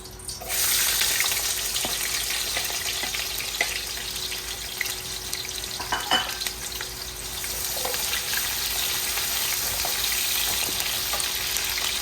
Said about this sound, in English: The oil has heated. So I'm going to add the onion.